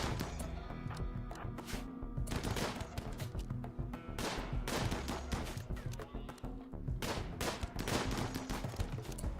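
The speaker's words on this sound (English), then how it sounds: "You two can pop out and open fire now." Dense gunfire from a firefight in the video game Rimworld, rapid overlapping shots and bursts sounding continuously and loudly throughout, with brief lulls between volleys.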